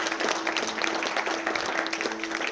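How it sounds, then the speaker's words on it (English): Guests at a wedding reception applauding, a dense, continuous wash of clapping from a crowd filling the room, loud and sustained throughout. "A round of applause."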